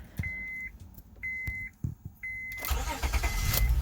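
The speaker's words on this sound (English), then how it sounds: "Will the car actually start?" A Honda Accord with a 3.0L V6 and a newly replaced starter gives a few electronic chime beeps. The engine then cranks, catches and settles into a steady, close idle.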